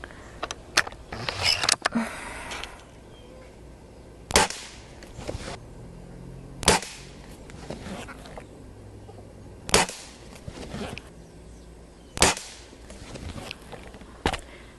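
Springfield Armory M1A under-lever .22 pellet rifle firing Crosman Premier 14.3-grain hollow-point pellets, several sharp cracks spaced a few seconds apart, with quieter clicks and mechanical handling noises between shots.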